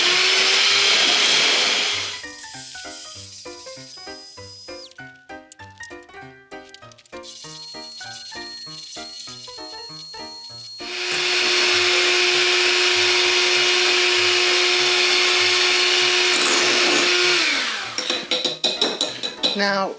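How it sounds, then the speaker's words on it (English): Electric hand mixer whisking whipping cream with powdered sugar, cocoa powder and Baileys, a loud steady whir in two long stretches separated by a quieter passage of clinks and knocks. "don't whisk your whipping cream too much because it can go to smooth to curdled very quickly"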